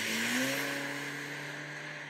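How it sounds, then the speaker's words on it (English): A car passes by, its engine tone rising and then sliding down steadily over about two seconds, loud and close with no voices. "You can hear that this is a car drive-by."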